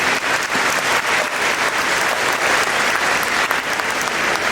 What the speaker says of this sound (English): Would you please give a nice warm round of applause to Mr.